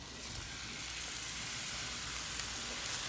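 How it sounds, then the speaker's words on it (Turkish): Minced meat going onto the stove for a meat sauce, giving a soft, steady, hissing sizzle that holds at an even, quiet level throughout without any voices. "Şimdi üzerine kullanacağım kıymalı sosum için kıymamı ocağa alıyorum"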